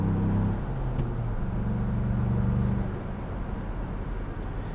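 A 2021 Ford Bronco Badlands with a 2.3L engine and manual gearbox drives along, its engine droning steadily with a harmonic hum that drops away after a few seconds, leaving road and cabin rumble.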